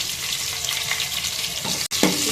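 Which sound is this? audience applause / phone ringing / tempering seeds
tempering seeds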